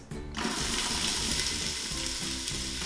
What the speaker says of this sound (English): we are going to now saute our onions